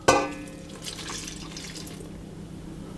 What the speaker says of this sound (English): And then I'm going to pour my water in as well.